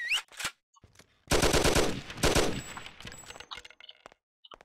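Pistol gunfire in a Mafia game: a loud, rapid run of sharp shots over about two seconds, with a few scattered single reports and metallic clinks before and after, no speech.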